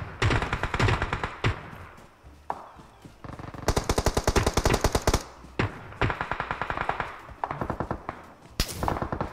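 Rapid gunfire from PUBG Mobile rattles out in repeated loud, dense bursts, with short gaps between volleys and a final sharp burst near the end.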